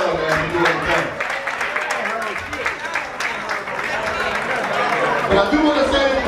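Club crowd at a lounge and grill applauding and cheering in a dense, sustained wash of claps and chatter, with a voice talking over the noise throughout.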